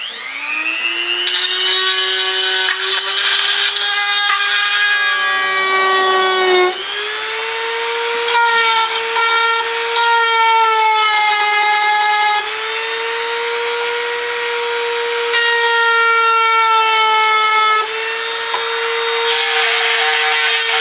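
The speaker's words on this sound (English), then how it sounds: "you want to take a Dremel and basically get rid of this hump right there" A Dremel rotary tool grinds down a hump on a Ruger 10/22 bolt hold-open lever, giving a loud, steady high whine that dips in pitch as it bears down, running continuously with no talking.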